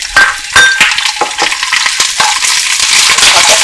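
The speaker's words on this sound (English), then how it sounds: "we're going to pan fry the fish cake, the cabbage, onions, and green onions" Fish cake, cabbage, onions and green onions pan frying together for rabokki, a close, loud sizzle broken by repeated stirring scrapes and clacks in the pan.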